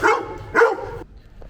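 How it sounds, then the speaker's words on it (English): Dog barking outdoors in Poland, two sharp barks in quick succession at moderate distance, followed by quiet. "there's some dog out here going crazy"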